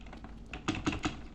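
Typing on a gaming computer keyboard: soft key taps early, then three louder, distinct clacks at a steady rhythm, heard close up with no talking.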